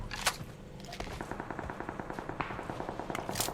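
Rapid automatic gunfire from PUBG Mobile, with fast bursts of shots crackling almost nonstop. A few sharper, louder reports stand out near the start and the end.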